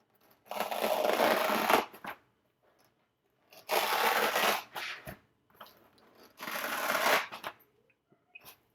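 A blade slices through packing foam in three separate bursts of rough crunching and tearing, each lasting about a second, close and fairly quiet, with short pauses between them and no speech.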